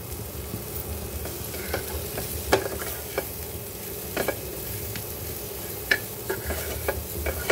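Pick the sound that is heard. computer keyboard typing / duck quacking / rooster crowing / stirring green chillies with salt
stirring green chillies with salt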